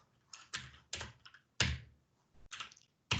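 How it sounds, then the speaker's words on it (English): Typing on a computer keyboard during a software development demo, heard as a few bursts of clattering keystrokes with short pauses between them, close and fairly loud with no voice over it. "So if I start typing here"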